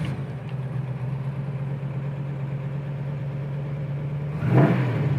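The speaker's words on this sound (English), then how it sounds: "I'm gonna turn the key." A 1936 Ford Sedan Delivery engine runs at a steady low idle, then a short burst of revving or cranking noise rises near the end, close and fairly loud.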